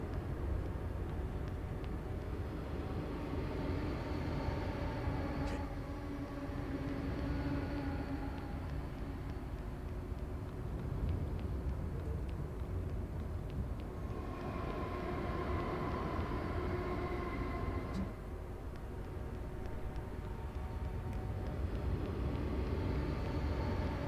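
A train hums at the Gates of Hell station in the video game SMT4A, a soft, sustained rumble with faint tonal drones that swell and fade over about twenty seconds, with no voices.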